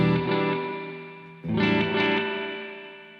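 An electric guitar runs through an Echoplex emulation with spring reverb. Two distorted chords ring out one after the other, each decaying with a wash of echo, and no one speaks.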